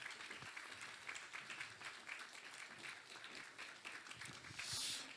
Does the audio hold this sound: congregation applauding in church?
yes